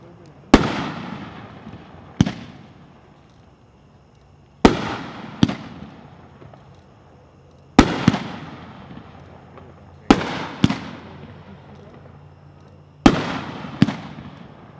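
A Wicked Willow 16-shot firework cake fires a string of sharp loud bursts in uneven pairs, each crack followed by a long crackling, hissing tail that fades before the next launch, with a faint low hum underneath.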